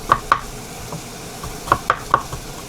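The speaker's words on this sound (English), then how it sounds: "just chop them like that" Carrots chopped with a knife on a board for beef stew: a few sharp, close knocks in uneven clusters, two quick cuts, a pause, then three more, over a faint kitchen background.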